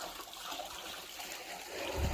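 Household water runs into a chamber of a bioseptic tank, a steady faint gushing and trickling flow that swells slightly toward the end, with no voices.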